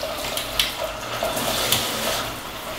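Water streams steadily from a Delta In2ition shower head, a continuous close hiss of running water with slight fluctuations and no talking.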